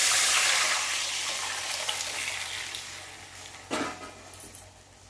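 Boiled dal, cooked with salt, turmeric and green chilli, is poured into a sizzling tempering of dried red chillies, bay leaf and whole cumin in a pan. A loud frying hiss fades steadily, and a brief clatter comes near the end.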